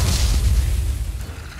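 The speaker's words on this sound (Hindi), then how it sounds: "और फिर जोरदार धमाके की आवाज आई" A deep, loud boom with a rumbling low-end roar that slowly fades, like a heavy explosion heard alone.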